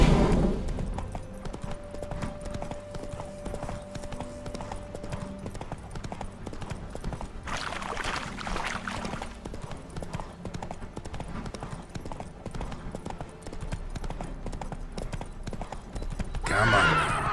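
Horse hooves clip-clop steadily in the Witcher 3 video game, with a whinny and snorting from the spooked mount, continuous and fairly close under game music and ambience.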